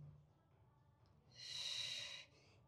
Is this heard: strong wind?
no